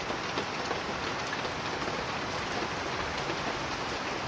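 Rain falls steadily onto tree leaves, producing an even, unbroken wash of patter at moderate distance, fairly soft and free of speech.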